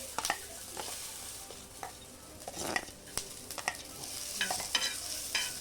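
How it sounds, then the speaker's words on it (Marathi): Ginger and garlic roast in a pan for a chicken gravy, with a soft steady sizzle broken by frequent spatula scrapes and stirring clinks. "हे बघा थोडंसं अद्रक लसूण पण भाजून घेऊया।"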